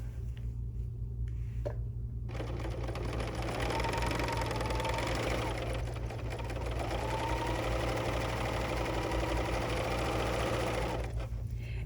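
A Bernina L 860 overlocker sews a two-thread rolled hem while resting on an IKEA Billy shelf with fabric underneath. After a brief start it keeps up a loud, continuous, even whirring hum.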